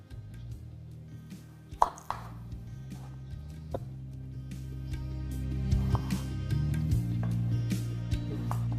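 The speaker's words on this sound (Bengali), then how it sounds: "এবার এখানে আমি আপনাদের এই রেসিপির জন্য আলুটাকেও কেটে দেখাচ্ছি।" Potatoes being cut into small dice on a board give a few sharp, irregular knife chops, close by, over a steady tonal hum.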